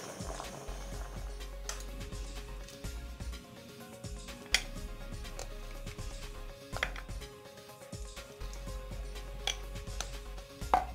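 Boiled white yam is pounded in a mortar, with repeated dull thuds at an uneven rhythm, close and fairly quiet, against a low steady background hum.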